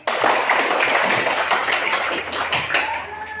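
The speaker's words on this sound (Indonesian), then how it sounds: "Oke, tepuk tangan" Students in a physics class clap together in a dense, loud burst of applause that holds steady and gradually thins near the end, close and filling the room.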